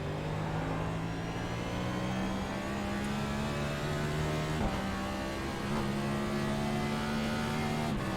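A Next Gen race car engine in the iRacing simulator drones steadily at high revs, its pitch climbing and then stepping back down through quick downshifts with brief throttle blips, heard close with no talking.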